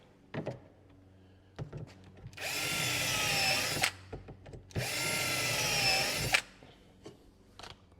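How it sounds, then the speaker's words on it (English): Two bursts of a power drill whirring through wood, each lasting over a second, close by, with a few knocks and clicks between them. "We can drill our holes and put in our plates."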